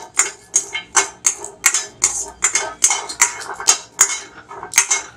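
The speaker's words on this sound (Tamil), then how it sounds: "சும்மா தான் வறுக்கிறேன்." Garlic dry-roasted in a pan with no oil, heard as a steady series of sharp metallic scrapes and clinks from stirring, roughly twice per second, close and fairly loud.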